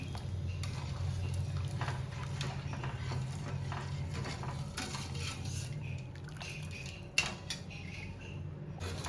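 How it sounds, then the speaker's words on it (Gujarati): Powdered sugar for rose sharbat syrup stirred steadily in a pot, a continuous scraping and swishing with small clinks, fairly close, with one sharper knock near the end and no talk. "આપણે કન્ટિન્યુઅસ મિક્સ કરતા રહીશું જ્યાં સુધી ચીકણું થઈ જાય ત્યાં સુધી"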